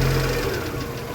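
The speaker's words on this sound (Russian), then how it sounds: "Двигатель вышел на рабочую температуру" A VAZ 2112 car engine, warmed to operating temperature after a search for rough running, idles with a close, steady mid-pitched hum and faint knocking undertone over a brief moment.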